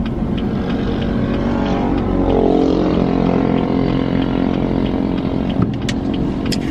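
From inside a moving car, a steady engine and road rumble drones throughout, with brief clicks and a bump partway through and no talking.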